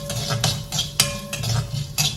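Chana dal (Bengal gram) sautéed in a pan produces repeated scraping and light metallic clinks of a spoon stirring, with a soft continuous sizzle underneath.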